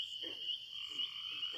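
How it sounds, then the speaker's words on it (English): Bullfrogs croaking at a pond at night, several low throaty croaks in a loose rhythm beneath a steady high insect drone, moderately close and clear with no talking. "you can hear all those frogs"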